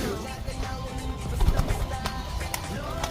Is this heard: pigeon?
yes